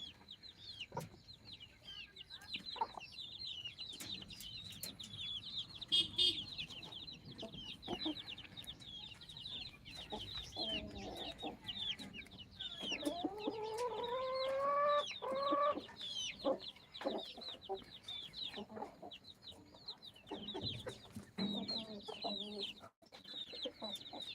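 Desi country hens cluck and chatter throughout on a poultry farm, with several birds calling near and far, a rising cackle midway and frequent small knocks and rustles.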